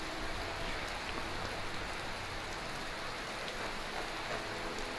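Rain falls steadily in the video game Skyrim, a dense, even hiss that continues throughout without voices.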